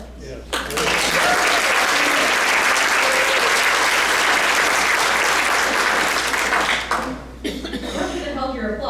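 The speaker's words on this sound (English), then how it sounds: "I should have held your applause" Loud, sustained applause from a political meeting audience fills about six seconds, then stops abruptly and a speaker's voice follows.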